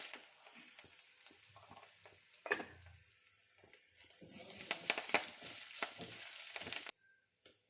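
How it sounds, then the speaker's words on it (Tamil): Spices with cinnamon bark and chillies sautéing in a pan, a steady close sizzle and fry with occasional stirring scrapes and clinks, rising louder toward the end before cutting off, no talk. "நல்லா வதக்கணும்."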